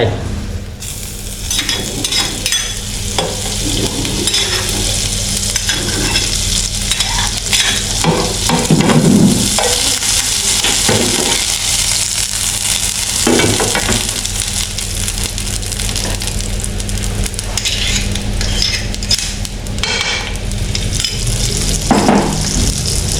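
Butter sizzles loudly as it fries in a hot pan, a dense, continuous close hiss with occasional stirring scrapes, steady throughout and without talk.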